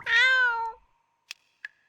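A single clear, drawn-out black cat meow in the horror video game Dread Neighbor, close and loud, followed by two short soft ticks and quiet.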